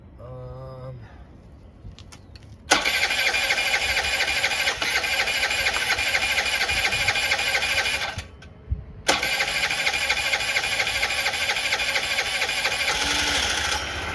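A Honda Elite 80 two-stroke scooter engine cranks, catches and revs into a loud, buzzing high-pitched drone, cuts out briefly, then restarts and keeps running steadily.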